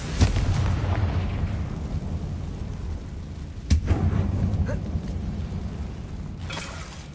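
Confringo blasting spell exploding inside an old mine tomb in Hogwarts Legacy, a sharp burst followed by a rumbling roar, with a second crack a few seconds later over continuous game background rumble.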